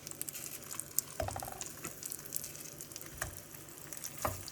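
Ground glutinous rice and squash fry in a non-stick pan, with a soft, crackling sizzle broken by scattered louder pops and scraping stirs, fairly quiet.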